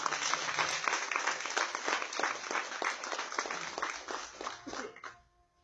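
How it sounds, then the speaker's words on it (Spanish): A church congregation bursts into dense, steady applause at close range, many hands clapping together for about five seconds before it cuts off abruptly. "Dale fuerte ese aplauso, Señor"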